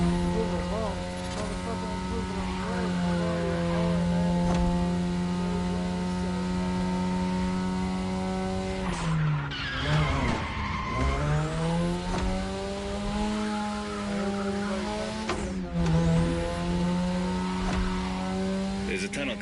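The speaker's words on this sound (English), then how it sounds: "Tonight your ride is a 3rd gen 2002 Mazda RX-7. Lightweight, compact, a sick rotary engine, and one hell of a look." A 2002 third-generation Mazda RX-7 with a rotary engine races in The Crew Motorfest. Its engine holds a high, buzzing drone that drops and climbs again through two gear changes, with brief tire squeal and a voice speaking over it.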